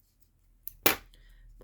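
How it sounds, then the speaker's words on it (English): Scissors snip through crochet yarn, a small click followed by one sharp, close cut, then a brief faint rustle of handling. "I pull it hard so I can first cut this yarn here"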